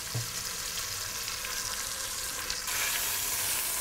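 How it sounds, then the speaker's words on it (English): Beef cheeks searing in a hot pan of olive oil, a loud, continuous dense sizzle close up that swells slightly near the end, with no talking. "in a nice hot pan, grab your beef cheeks out, and we're just gonna color them off"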